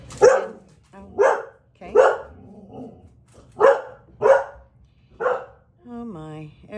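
A puppy acting as a watchdog barks at intruders indoors: about seven loud, close barks in an uneven rhythm, each separated by short pauses, with a brief spoken word near the end.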